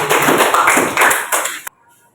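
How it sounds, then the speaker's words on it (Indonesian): Classroom applause for a student named Aziza, a dense burst of many hands clapping together for about a second and a half, then stopping abruptly into near silence. "Aplaus untuk Aziza."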